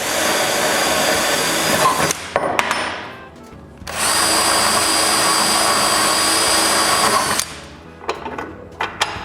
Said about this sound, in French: Puis je perce les trous.